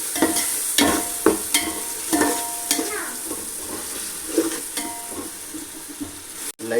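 Biryani masala sautéed in a pan for a chicken dum biryani, with steady sizzling broken by a run of sharp utensil scrapes and taps from stirring, loud and close.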